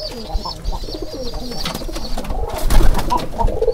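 Domestic pigeons coo in a loft, a male courting a female ahead of egg-laying, with repeated throaty coos and soft rustling close by, along with a few faint chirps.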